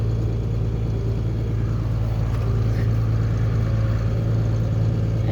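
A tractor drives ahead with a folding cultivator, a steady low droning engine hum that stays constant and fairly loud throughout, with a faint clatter on top and no voices.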